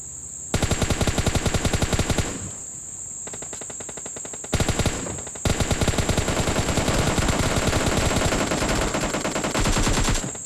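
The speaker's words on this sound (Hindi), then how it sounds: "तो भाई ये फिर से मेरे पे फायरिंग करते हैं और थोड़ा सा डैमेज देते हैं" Rapid automatic gunfire in the battle-royale game PUBG Lite, loud sustained bursts of shots with brief pauses between volleys, near and dense throughout.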